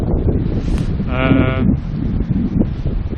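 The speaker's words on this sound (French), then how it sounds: "Il y a pas mal de vent." Wind buffets the microphone in a steady rumble while a person talks over it, with a brief higher-pitched tonal sound midway.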